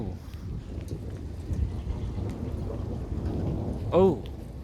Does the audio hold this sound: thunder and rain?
yes